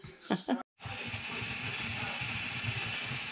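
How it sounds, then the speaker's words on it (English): Continuous steam hiss from an electric canner fills the clip after a brief voice and a moment of silence, steady and fairly loud. "So the canner is bubbling. We're almost to a steady stream of steam."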